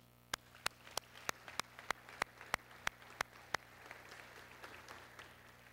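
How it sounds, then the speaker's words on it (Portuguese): Scattered sharp claps at a formal ceremonial session of Brazil's Chamber of Deputies, about a dozen in a steady rhythm, then thinning into softer sporadic clapping against a low hum. "Lemos, merece as palmas de todos nós."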